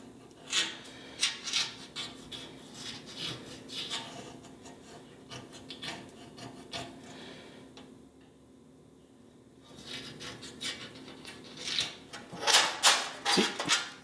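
A metal scribe scratches a line across a TC Bros rear fender being fitted to a Honda Rebel 250, heard as close, intermittent rasping strokes with a quiet pause midway before a final cluster of sharper scrapes.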